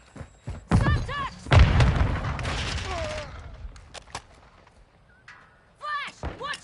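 A Semtex grenade blows up in a video game shooter, a heavy booming blast amid clustered gunfire and thuds, close and loud, with a voice speaking between the bursts.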